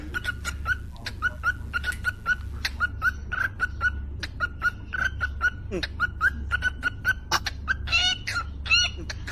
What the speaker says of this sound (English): This is a bird.